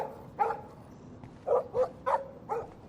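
A dog in the video game Life is Strange barks in a short series of four or five sharp, fairly close woofs spaced about half a second apart.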